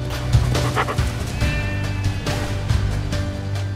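A shepherd dog in a film barks a few times in short bursts over a steady background hum, with some whimpering yelps mixed in.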